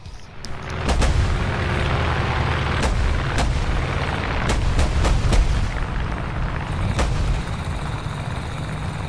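Heavy cannon and gunfire from a tank battle in War Thunder ground realistic battles, with the Seversk-13: several loud sharp blasts at irregular intervals over a constant rumbling engine bed, with no talking.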